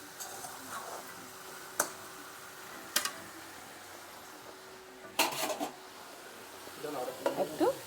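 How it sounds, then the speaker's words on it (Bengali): Prawn and pumpkin frying in a pan, a low, steady sizzle broken by sharp spatula clicks and scrapes against the pan, with a busier burst of stirring toward the end. "লবণ দিয়ে আর একটু কষিয়ে নিয়ে"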